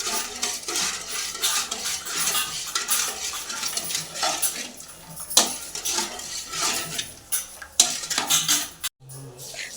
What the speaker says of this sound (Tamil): சும்மா லோ ஃப்ளேமில் வச்சு அந்த சர்க்கரை கரையிற வரைக்கும் நம்ம அப்படியே மெதுவாக கிண்டிகிட்டே இருக்கணும்